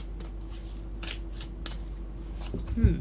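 A deck of affirmation cards shuffled by hand, soft quick riffling bursts close up and fairly quiet, ending with a brief louder rustle.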